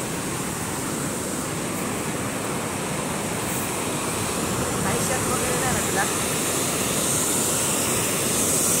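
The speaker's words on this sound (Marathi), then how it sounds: "धबधब्याचा आवाज पण इथपर्यंत येतोय आणि धबधबा आपल्याला आवडलेला आहे" Bharundi waterfall near Pratapgad rushes as a steady, broad roar from some distance, continuous throughout, while a person speaks briefly over it.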